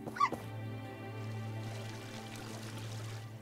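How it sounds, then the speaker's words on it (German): A dog in the video game My Time at Portia gives a single quick yip near the start, then a steady low in-game drone continues alone. "Ich höre einen Hund."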